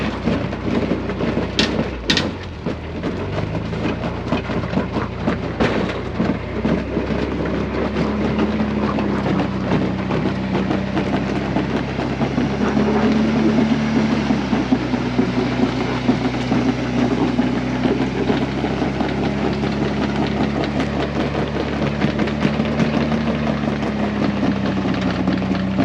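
A rock crawler's engine labours up a climb in the rocky desert of southern New Mexico, its carburetor struggling. The engine makes a loud, continuous rumbling drone with uneven surges, and sharp knocks and clatter sound near the start.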